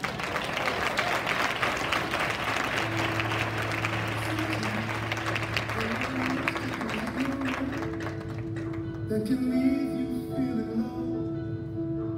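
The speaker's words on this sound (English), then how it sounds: "give them another round of applause." An audience applauds a scholarship student bound for engineering at the University of Illinois Urbana-Champaign, at a high school legacy award ceremony. The clapping is steady and dense throughout, with sustained tones entering partway and the applause thinning near the end.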